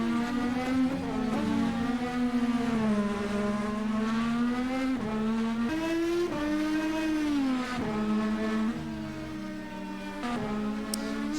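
An Indycar in rFactor 2 at Bahrain, with a high-pitched engine whine sustained at close range throughout as it rises and falls through gear changes on the lap.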